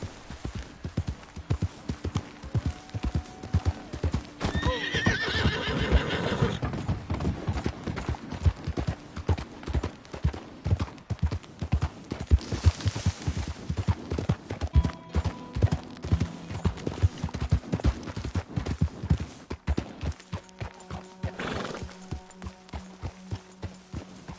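Horse hooves pounding in a steady clip-clop gallop in the Red Dead Redemption 2 video game, rhythmic and close, with occasional snorts and background game music or ambience layered beneath.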